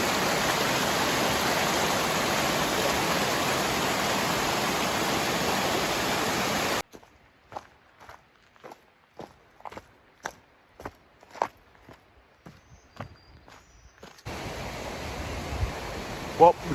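A creek flowing beside a forest trail in Vogel State Park, north Georgia, heard as steady broadband rushing water. It drops out midway for a quiet stretch of scattered clicks, then the water returns.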